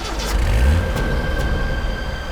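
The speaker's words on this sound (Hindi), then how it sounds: "गाड़ी चला, निकल यहां से।" A car pulls away and accelerates, a loud low engine rumble and rev up close that holds steady for a couple of seconds, no speech.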